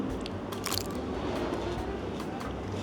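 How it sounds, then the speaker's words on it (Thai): Pickled single-clove garlic is bitten and chewed close up, a run of soft crisp crunches over a quiet background. "เอามาดองแล้วมันจะมีความกรุบกรุบกรุบกรุบกรอบกรอบนี่"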